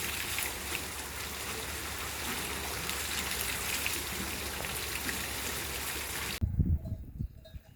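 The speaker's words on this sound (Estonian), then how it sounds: "Ja vesirattad töötamas." Water wheels turning at the foot of a mountain in Pfronten give off a steady, dense rush of churning water that stays loud and even for about six seconds before cutting off abruptly into a few quieter knocks.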